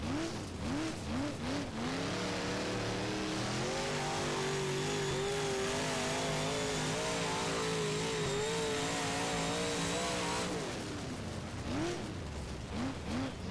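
A UMP Modified race car in the rFactor racing sim revs its engine on the Hagerstown dirt oval, rising and falling through the gears and briefly holding at the rev limiter, loud and continuous throughout.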